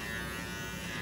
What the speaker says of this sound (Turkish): saç böyle geldiği için makineyle böyle vuruyorum